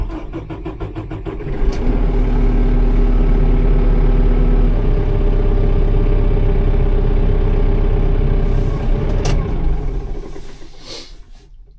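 A tractor engine running at around -40 degrees with fuel gelling, a loud, close, rough diesel rumble that settles into a steady uneven labor, with a few sharp clicks before it eases off.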